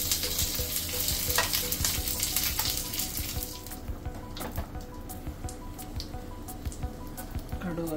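Mustard seeds, dried chillies and curry leaves sizzle in hot oil for a Kerala puliyinchi tempering, a dense loud fry with scattered pops and spits that eases slightly partway through.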